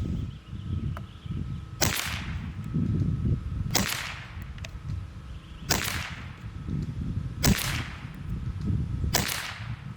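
A Webley Nemesis-X tactical PCP air rifle fires 18-grain pellets in five sharp, loud cracks spaced about two seconds apart, each with a short ringing tail over outdoor rumble.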